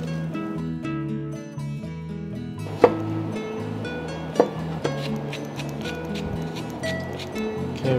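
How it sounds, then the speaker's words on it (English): A knife slices ginger on a cutting board, giving a few sparse sharp taps over background music, with no speech. "we're gonna slice the ginger"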